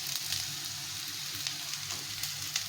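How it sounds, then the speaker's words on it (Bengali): Potatoes and onions fry in a pan with a steady, close hiss of sizzling oil and a few soft clicks of stirring throughout, no voices. "আলু আর পেঁয়াজটা ভাজা ভাজা হয়ে গেছে"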